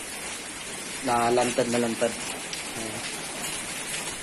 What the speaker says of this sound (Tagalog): Umuulan pa ngayon,